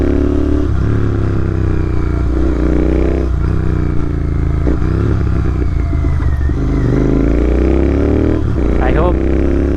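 A GT650 motorcycle's engine drones steadily and loudly on the move, with wind rumble and occasional clatter throughout, while the rider talks over it.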